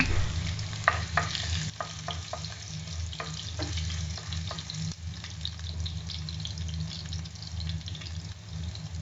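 Ginger and garlic frying in about two tablespoons of hot oil in a pan, a dense, steady sizzle and crackle with sharp spattering pops and occasional spoon scrapes early on, close and without speech.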